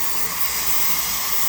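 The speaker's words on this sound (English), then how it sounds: "it's been a continuous stream of steam for 10 minutes" Steam hisses steadily from a T-Fal pressure canner in a loud, unbroken broadband rush that never pauses, with no voices over it.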